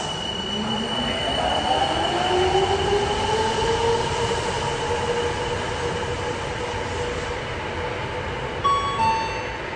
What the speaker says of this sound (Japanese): 2番ホームから真駒内行きが発車します